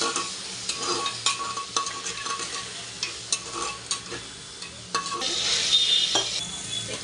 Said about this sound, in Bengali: আদা রসুনটা দিয়ে এবার নাড়াচাড়া করছি